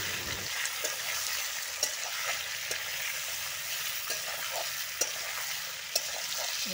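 Potatoes and meat fry in a pot, an even sizzling hiss carrying periodic sharp stirring clicks and scrapes, close and fairly loud, with no one speaking.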